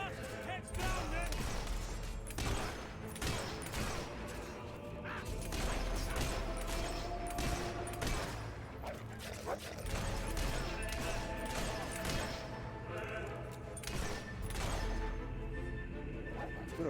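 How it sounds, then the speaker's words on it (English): Battle gunfire in the video game Fable 3: dense, rapid volleys of shots crackle continuously with clanks and crashes, loud and close, while voices talk over the fighting. "They're under fire!"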